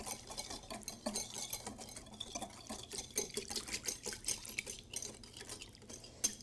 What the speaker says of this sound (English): a tablespoon of sugar to make it a little bit sweeter. And whisk it and mix it nicely